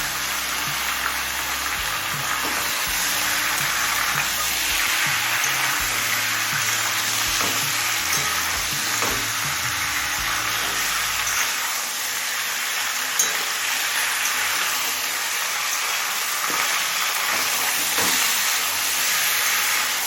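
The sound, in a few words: chicken frying in hot oil on high flame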